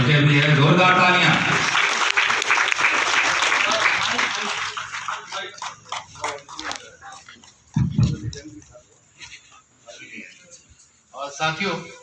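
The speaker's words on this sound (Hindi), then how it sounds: "एक दूसरे से पुराना परिचय भी है। जोरदार तालियां।" Loud applause at a ceremony honouring an artist, a dense burst of clapping filling the first several seconds and then thinning into scattered claps, with a brief swell near the end.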